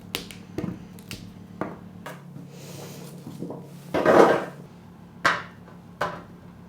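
Small cauliflower florets dropped by hand into a roasting tin, giving sharp light taps and clicks at irregular intervals with a couple of louder rustling knocks, close and alone.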